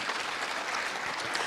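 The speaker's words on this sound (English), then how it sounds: "Can we give our panel a big round of applause?" A brief burst of audience applause for a panel at the 8th National ICT Summit 2024, dense and continuous clapping filling the hall.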